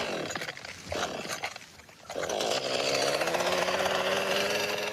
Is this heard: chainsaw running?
yes